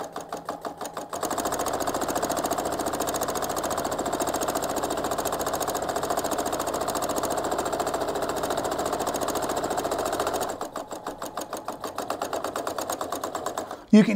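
A sewing machine runs fast doing satin stitching on a glow-in-the-dark sugar skull quilt design, a loud, rapid, steady mechanical chatter lasting about nine seconds, with brief stop-start bursts at each end.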